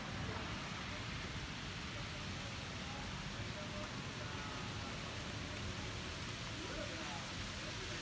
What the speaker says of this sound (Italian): Mi sta piovendo addosso